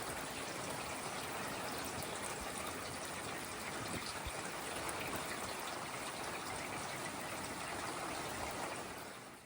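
Heavy rain pours in a dense, continuous hiss and patter, steady and even throughout with no voices.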